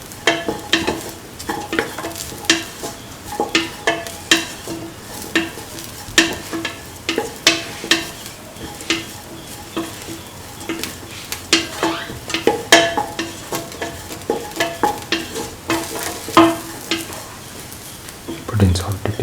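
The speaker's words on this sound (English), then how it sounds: "Thoroughly salt and mix." Chicken, carrot and rice get stirred and mixed with salt in a frying pan, with steady scraping strokes over a soft sizzle and occasional clinks of utensil on metal, close up and continuous.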